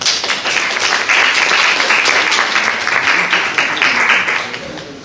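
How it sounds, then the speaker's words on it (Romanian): Steady applause from an audience at a folk performance at the village museum, sustained dense clapping for about five seconds before tapering off near the end. "Să aplaudăm tineri studenți ai Universității Naționale de Dreapte și Cultură"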